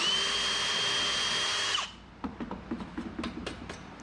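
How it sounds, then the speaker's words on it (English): A power drill bores a hole through the cabin of a Zenith 750 Cruzer kit airplane, opening it to A4 size during a sliding seat install. It whines loudly and close for about two seconds, then stops, leaving light clicks and handling noises. "So we'll drill this to A4."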